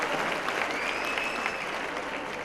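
An audience applauds award winners at an event, giving a steady even patter of clapping at moderate volume with no voices over it.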